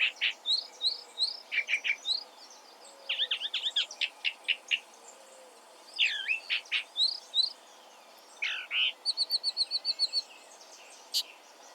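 A drab-plumaged mimic songbird in Buenos Aires sings a varied string of bright chirps, trills and rapid repeated notes in quick bursts, clear and fairly close with no other sound.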